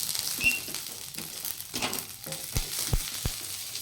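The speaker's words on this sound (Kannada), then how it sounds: "ಈಗ ನುಗ್ಗೆ ಸೊಪ್ಪನ್ನ ನೀಟಾಗಿ ಹುರಿಬೇಕು" Drumstick (moringa) leaves fry in a pan over a medium gas flame, a soft continuous sizzle broken by light scraping and clicking as they are stirred, close by with no talking.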